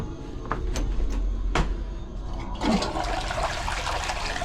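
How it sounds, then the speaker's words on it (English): A household toilet flushes after the water supply is restored during a DIY plumbing repair, with a loud rushing gush of water rising partway through, preceded by a few clanks and low background hum. "a proper flush"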